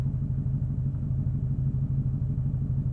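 A tuned car engine pulling under full throttle on a boost ramp run, a steady low pulsing rumble with rhythmic exhaust beats, loud and close, no voices.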